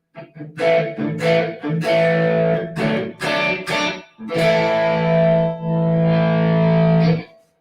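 Distorted electric guitar plays choppy chords and short riffs through a two-channel amp, ending on a long sustained chord.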